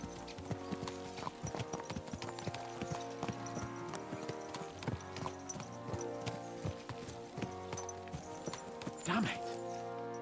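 Horses' hooves clip-clop steadily throughout a video game ride, with a brief neigh and game dialogue and music running over the hoofbeats.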